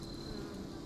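Honeybees buzzing steadily at the entrance of a homestead hive as foragers return laden with pollen, a continuous close insect drone with no voices.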